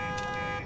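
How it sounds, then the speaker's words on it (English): A car alarm blares in the Parking Tycoon business simulator game, a steady held electronic tone with faint pulsing that fills the whole short moment without any talk over it. "Now I can hear a car alarm going off"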